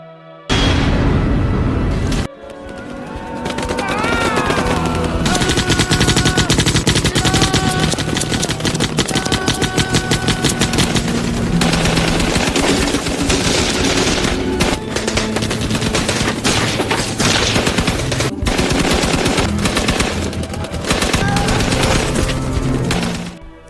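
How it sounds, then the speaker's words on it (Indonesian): Intense, sustained gunfire with rapid automatic bursts and booming shots, loud and dense for over twenty seconds, layered with a dramatic musical drone. "mereka mendengar suara tembakan yang sangat gencar dan berasal dari 3 penjuru"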